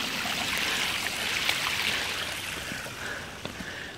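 Creek water flows in a steady, close babble with small splashes and trickles, a continuous rushing sound with no voices.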